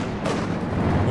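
Mortar fire in the World War II strategy game Company of Heroes 2, a loud booming blast with a rumbling tail over a dense battlefield din of distant explosions and gunfire.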